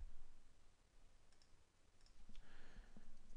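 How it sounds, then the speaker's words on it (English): Computer mouse clicks at a desk while working in AutoCAD Civil 3D 2014, a few faint, close, light taps over a steady low hum of room noise. "So I'll click on it and I'll say Edit Label Text"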